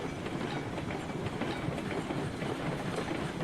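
A steady rolling rumble from a train running on rails in the RailRoads Online video game, with a dense rattling clatter and constant level, no talking.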